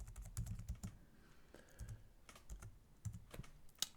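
Clicky keystrokes on a computer keyboard while entering actions in a software setup screen, a quiet, irregular patter of single taps and short bursts with no talking.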